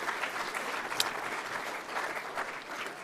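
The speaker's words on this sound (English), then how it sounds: "Big round of applause for all our players" Audience at a junior football awards night giving the players a steady round of applause, a dense continuous clatter of many hands with no voices on top.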